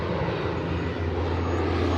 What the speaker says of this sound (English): I leave you guys with this awesome plane heading out.